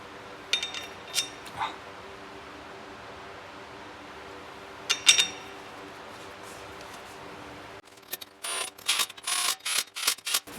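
A small block Chevy engine's flywheel bolts being tightened, with a few sharp metallic clicks and creaks, then a rapid burst of ratcheting clicks toward the end, close and without talking.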